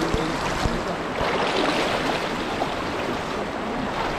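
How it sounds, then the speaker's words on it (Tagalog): Boat on a river forcing against a strong current, a steady loud rush of churning water and wind noise filling the clip without a break, close by and without talk. "kami ay nakikipagsagupaan sa malakas na pressure ng tubig ng ilog na ito"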